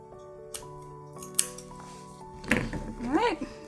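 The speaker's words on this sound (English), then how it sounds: "then we're going to cut that with our scissors" Scissors snip excess string off a handmade lemon garland, giving a few sharp close cuts followed by rustling handling sounds and a brief voice.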